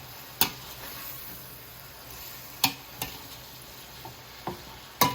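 String beans and potatoes being stirred in a pan, with a few sharp scraping clinks of the utensil spaced across a low, steady sizzle and no talking.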